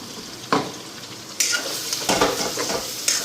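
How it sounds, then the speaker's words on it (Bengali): Onions and spices fry in hot oil with a close, bright sizzle that surges with each stir, spatula scrapes and light clatter breaking in every second or so, no voices. "তো মশলাটা একটু ভাজা হোক"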